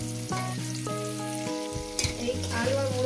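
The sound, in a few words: frying potato and radish in a pan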